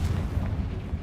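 A Confringo blasting spell fires in a wizarding video game, a dense low rumbling burst that sustains for about a second with no voices.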